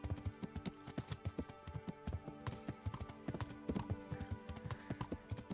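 Hooves of a Dread Steed, a Death Rider's undead horse in a video game, clip-clop in a steady, close gallop rhythm, with a brief whinny partway through and no talking.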